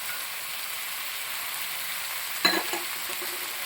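Chopped green beans frying in a pan for vegetable kurma give a steady, soft sizzle, with a brief clatter of stirring near the middle and a few quieter scrapes after, no voices.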